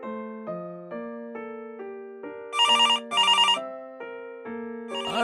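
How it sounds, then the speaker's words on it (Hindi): A landline telephone rings in a stepped electronic melody of repeated tones, interrupted twice by a brighter buzzing bell-like trill, loud and alone without talk. "ये मोबाइल की जगह लैंडलाइन खनखना रहा है।"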